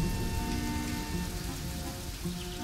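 Steady rain patters on a surface, a constant wash of drops with no voices over it.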